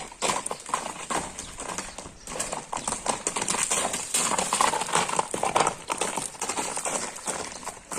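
A young horse's hooves clip-clop in a quick, steady run of close, sharp beats that continue without a break, loud and up front, with no talk over them.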